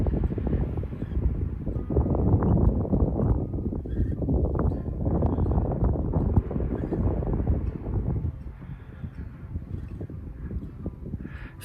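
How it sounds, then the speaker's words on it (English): Wind and waves on a quiet Irish coast at the end of March make a steady, moderately loud rushing wash that eases somewhat toward the end, with no voices. "apart from a little bit of wind and the waves, it is so quiet"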